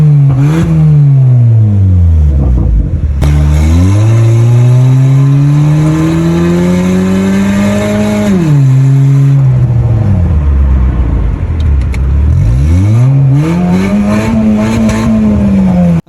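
Car engine with a cut-off exhaust valve opened, revving hard and loud in repeated rising and falling sweeps, a deep raspy exhaust note climbing and dropping several times, close up and alone.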